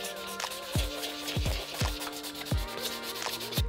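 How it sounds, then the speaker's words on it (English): 400-grit sandpaper rubs in circles over the leather upper of an Air Force 1 sneaker, a soft, continuous scratchy rasp with repeated brief thumps roughly every half second, close up and with no talking. "So let's go ahead and start off with our 400 grit sandpaper."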